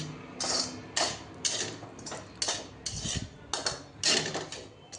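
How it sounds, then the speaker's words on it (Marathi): Semolina roasting in ghee in a pan for sheera over a low flame, heard as repeated metallic scrapes and clinks of a spoon against the pan in a steady stirring rhythm, close and fairly quiet, with no talking. "आणखीन दोन चमचे तूप ॲड करते आणि रवा छान भाजून घेणार आहे"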